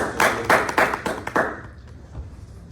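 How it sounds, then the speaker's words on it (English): A few people clap at a technology presentation, about five separate sparse claps in the first second and a half, fading into quiet room tone. "Round of applause for y'all."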